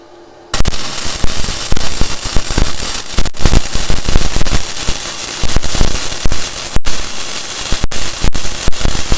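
Topshak 250A synergic multiprocess welder laying a first weld bead at mid voltage, a loud continuous crackling and sputtering hiss that starts abruptly and pops steadily, with a few sharp breaks.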